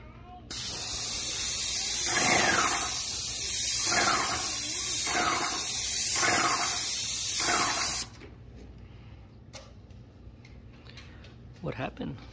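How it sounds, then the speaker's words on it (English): Spray paint hisses onto a cabinet door in one long, loud, close burst lasting about eight seconds, with slight pulsing as the can sweeps back and forth, then stops, leaving quiet room sound. "and let's spray it."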